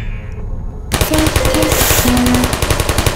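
Turrets firing in Portal, a sudden burst of rapid, loud machine-gun fire that rattles continuously after a brief quieter moment, with short electronic tones mixed into the barrage.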